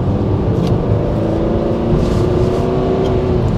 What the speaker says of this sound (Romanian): E ciudat să auzi motorul diesel, mi se pare poluare fonică, gălăgie